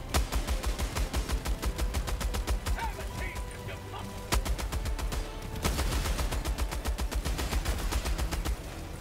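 A heavy machine gun fires in Helldivers 2 in rapid, sustained bursts of loud, close shots with a brief pause midway, and someone talks over the gunfire.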